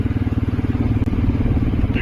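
A motorcycle being ridden in rainy weather in Murree, its engine a steady pulsing drone with a rhythmic throb, loud and close throughout.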